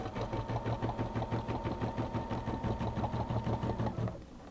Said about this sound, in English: I put a basting stitch on, which is a good idea when you stick something down because it keeps it in place.